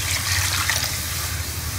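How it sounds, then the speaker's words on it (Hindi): Water is poured into a pan of roasted spice masala for a moong dal vadi curry, a close, continuous splashing gush with a bright hiss. "अब हम इसके अंदर पानी डाल देंगे"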